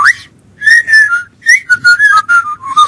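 A person whistles to imitate a UFO, rising and wavering tones in short bursts with gaps between them, loud and close, no talking.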